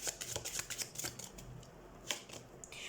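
Tarot cards are shuffled and drawn in a string of quick papery riffles and soft slaps, close and fairly quiet, with no talk.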